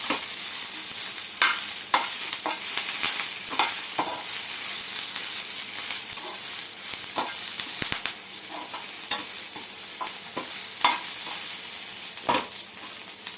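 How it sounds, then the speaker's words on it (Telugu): Tomatoes and spices frying in a pan for tomato chutney, giving a continuous close sizzle broken by frequent spatula stirs and scrapes at an irregular rhythm, with no voices. "ఇవన్నీ ఇలా వేగాలి, బాగుంటుంది చక్కగా."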